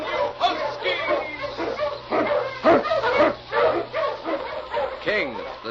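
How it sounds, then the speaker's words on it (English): Husky sled dogs in a radio drama bark, yip and whimper in a busy, overlapping chorus, with a voice calling over the dogs. "King, the swiftest, strongest of Eskimo lead dogs"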